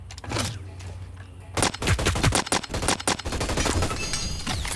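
Automatic gunfire in the sci-fi shooter Hyper Scape, a long broken run of sharp rapid shots fired in short bursts and single taps, close and loud, with game sound effects around them and no talk.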